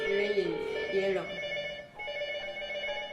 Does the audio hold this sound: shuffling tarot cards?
no